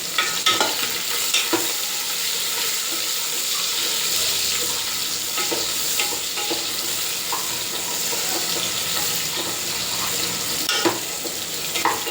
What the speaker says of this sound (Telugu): ఆనియన్స్ అనేవి ఫ్రై అవుతున్నాయి అన్నమాట.